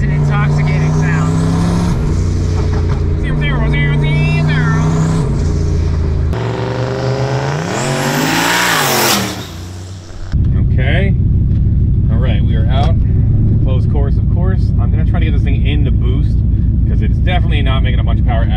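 A turbocharged V8 Lincoln roars and revs hard as it accelerates, with a higher whooshing rise partway through, loud and close, while someone talks over parts of it.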